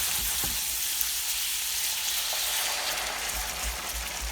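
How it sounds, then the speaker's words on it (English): Sherry is poured into a very hot pan of fast-cooking chicken livers, producing a loud, steady, hissing sizzle heard up close, with a few faint clinks and no talking. "we have a very hot pan with chicken livers cooking quite fast in there now. I'm now going to add the sherry."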